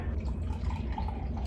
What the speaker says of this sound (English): Let's pour.